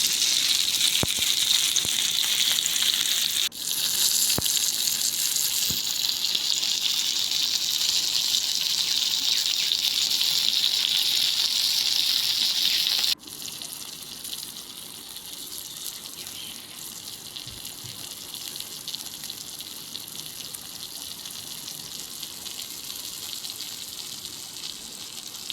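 Fish coated in masala fries in oil as a fry, with a steady loud hissing sizzle that drops to a quieter, even crackle partway through, with no voices.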